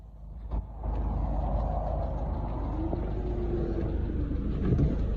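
A Nissan car's engine idles nearby, a steady low rumble that holds evenly throughout with no one talking.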